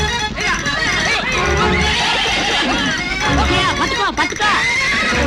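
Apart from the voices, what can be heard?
wild horse neighing, movie scene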